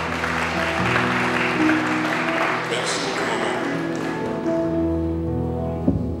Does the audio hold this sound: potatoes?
no